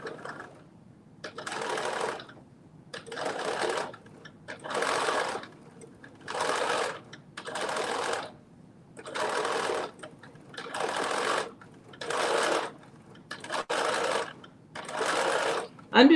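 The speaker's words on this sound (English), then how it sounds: "So I'm just doing the understitching." Home sewing machine understitching a curved bodice seam, running in about nine short regular bursts of steady whirring stitching separated by brief pauses, close and clear.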